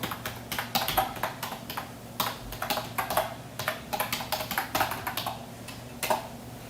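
Steady computer keyboard typing, a brisk run of close, crisp key taps with short pauses between bursts, heard alone with no talking.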